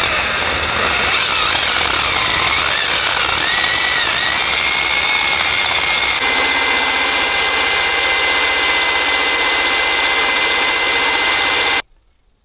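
A core drill bores at an angle into a wall, a loud, steady grinding whine with a high tone that shifts pitch midway, running without pause before cutting off abruptly near the end.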